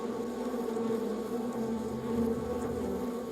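A swarm of bees makes a close, steady buzzing drone that holds even and unbroken throughout, with no other sound on top of it.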